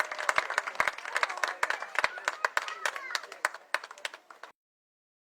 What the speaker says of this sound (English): He'll leave to some applause from the homestanding Cashtown crowd.